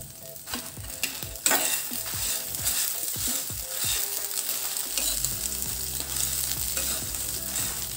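Flax seeds and salt frying in a pan, with a steady close sizzle and scraping stirring strokes that settle into a continuous hiss.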